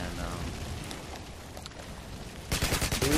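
Scar-H semi-automatic rifle fire in Call of Duty Modern Warfare 2 on the Scrapyard map, a dense crackling run of shots under someone talking, growing louder toward the end.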